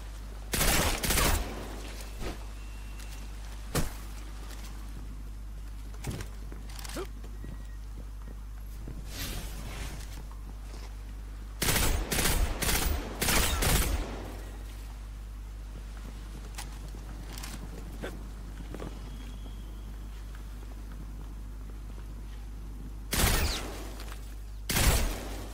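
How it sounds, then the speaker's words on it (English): High-caliber rifle gunfire in the video game Destiny 2, loud bursts of rapid shots in several clusters over a constant low game hum, with quieter gaps and faint effects between volleys. "This is high caliber rifle."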